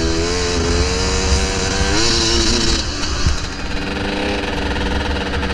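Two KTM 300 dirt bikes idle together in snow, their engines droning loud and steady with a raspy, buzzing tone and slight fluctuations in pitch.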